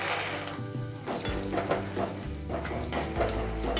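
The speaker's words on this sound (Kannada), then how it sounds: "ಎಣ್ಣೆಯಲ್ಲಿ ಕರ್ಕೋತೀನಿ ಶೇಂಗಾ" Peanuts fry in hot oil in a pan, giving a steady, dense sizzle with occasional stirring scrapes and light clinks, close and continuous, with no speech.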